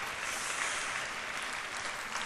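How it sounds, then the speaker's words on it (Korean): A church audience claps together after a prompt from the stage, a steady, even wash of many hands across the whole stretch, fairly quiet and without voices on top. "박수 한번 쳐주셔요."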